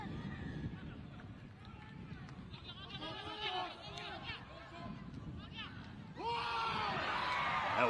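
Crowd noise swells at a rugby sevens match in the Oceania 7s tournament as Kiribati charge in, a broad roar rising louder near the end beneath a commentator's voice.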